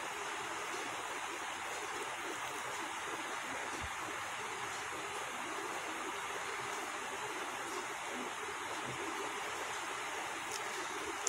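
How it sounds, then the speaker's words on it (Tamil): Liver curry gravy simmering in a pan with ground masala, giving a steady, soft bubbling hiss that stays even throughout, with no voices. "இது ஒரு 5 நிமிஷம் நல்லா கொதிக்கட்டும்"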